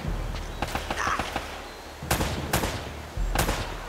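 Enemy gunfire in Uncharted: Drake's Fortune, with sharp distant shots cracking in quick bursts and separate single reports, fairly faint within the game's background.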